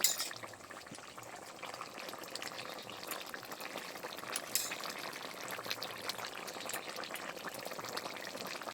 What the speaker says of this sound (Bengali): মাছগুলো দিয়ে দিয়েছি, এবারে একটু নেড়ে চেড়ে নিচ্ছি